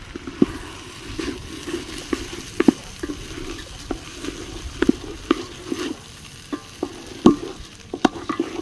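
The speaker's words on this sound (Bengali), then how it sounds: "এখন একটু কষিয়ে নেব আদা রসুনটা দিয়ে" Rice for winter-vegetable khichdi fries with ginger-garlic paste and turmeric in a pot over a clay stove, a spatula scraping and tapping in an irregular stirring rhythm over a low, steady sizzle.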